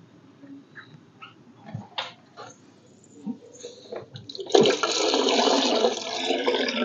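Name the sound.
aquarium water draining out through a drain pipe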